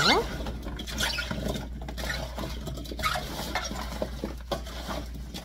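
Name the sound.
turning over salted radish cubes for kkakdugi in a bowl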